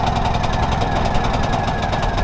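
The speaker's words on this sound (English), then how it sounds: "That's that one pull Honda right there" A small Honda outboard motor runs steadily and loudly, with a rapid, even mechanical pulse and no voices.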